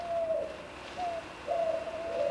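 A ring dove (Streptopelia risoria) coos softly in repeated drawn-out notes, three or four close calls in quick succession against a quiet background.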